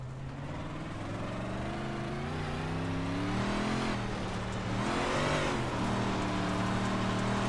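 Big block modified race car engine in the iRacing video game at Cedar Lake Speedway, a loud, steady roar that rises and falls in pitch as the car accelerates and lifts through laps.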